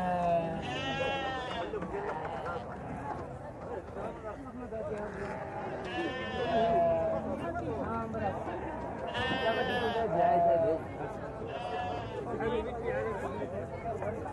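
Sheep bleating repeatedly at a crowded livestock market in Morocco ahead of Eid al-Adha, loud calls rising over a steady din of crowd chatter and nearby voices.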